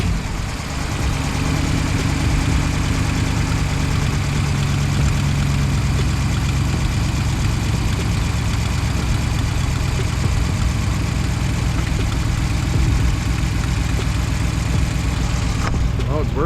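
A Ram 1500 pickup engine idles steadily after starting, a low continuous rumble with mid-range drone holding even and close for the whole stretch, no talking over it.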